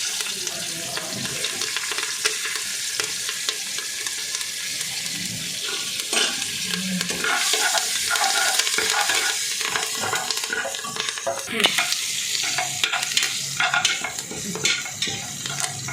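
Green chillies, curry leaves and coriander sizzle in oil already tempered with mustard and cumin for wheat-grit upma, a continuous close frying hiss with scattered crackles.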